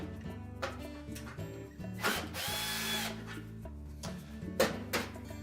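A power drill backs screws out of the top panel of a Whirlpool range, close and modest in level, with short buzzing runs of the motor broken by brief pauses and light metallic clicks.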